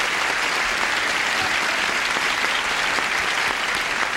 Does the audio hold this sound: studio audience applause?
yes